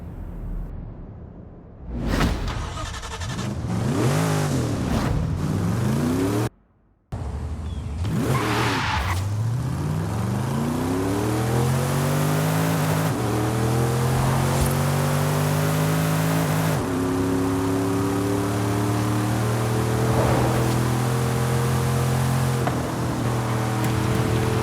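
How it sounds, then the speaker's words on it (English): A 1987 Mercedes-Benz AMG Hammer wagon in Forza Horizon 5, its 6-liter V8 revving hard through gear changes, loud and close, with rising and falling engine tones and a brief cut to silence partway through. "The large V8 sounds very American, but also very aggressive"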